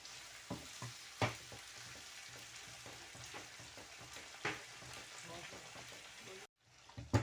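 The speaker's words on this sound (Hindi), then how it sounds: "अभी ये अच्छी तरह थोड़ा सा भून जाए" Spices and chopped coriander frying in a pan for white egg korma give a steady close sizzle, with a few sharp stirring clatters and a brief drop to near silence near the end.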